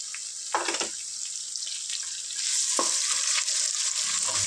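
Potatoes, about a quarter kilo, fry in oil in a pan for a curry, giving a steady close sizzle with a few scraping stirs, the hiss growing louder partway through; no one speaks.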